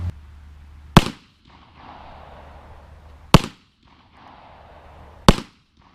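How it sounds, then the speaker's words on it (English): Three sharp, loud pistol shots from a .40 S&W firing Federal 180 grain jacketed hollow points into a meat target outdoors, evenly spaced about two seconds apart, each with a short echoing tail, no talking. "we'll shoot it with the 40, and we'll use the Federal 180 grain jacketed hollow point"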